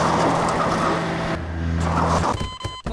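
A car driven in Garry's Mod on a Walking Dead prison map: a loud, droning engine with a steady low hum that drops in pitch partway, then breaks into clattering, crunching bursts near the end.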